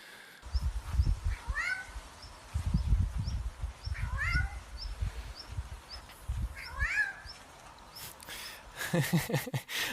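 A Eurasian jay mimics a cat's meow on a balcony, giving several repeated rising meow-like calls at moderate distance over low rumbling background noise, with a burst of harsher calls near the end.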